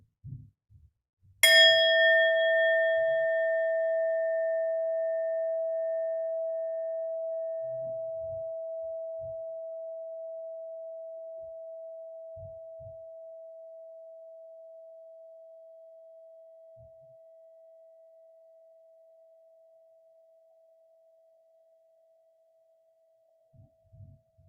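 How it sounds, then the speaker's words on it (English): A Tibetan singing bowl is struck once and rings with a bright, shimmering attack, then settles into a single steady tone that fades very slowly over some twenty seconds, with only a few faint low thumps around it. "Tibetan singing bowl. And I would love for you to simply listen until you no longer hear the sound of the bell."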